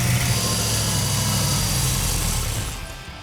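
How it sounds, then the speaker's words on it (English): A 1969 Plymouth GTX engine on an engine run stand runs steadily at a constant idle, loud and close, with a vibrating hum before it fades and sputters out near the end as it runs out of fuel. "So this little engine had to be ran on the engine run stand"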